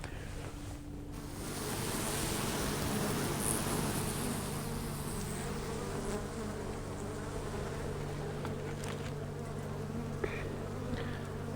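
Honey bees swarm around a hive during emergency feeding, making a close, steady buzzing drone that swells after a quiet start and holds evenly, with no voices.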